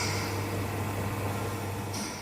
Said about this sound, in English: That's the sound of white noise from empty studios.